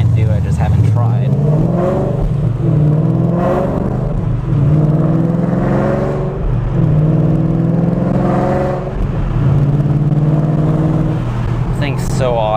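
Ford Mustang GT engine revving and pulling while driving, rising and falling in pitch through repeated accelerations, heard close and loud beneath someone talking throughout.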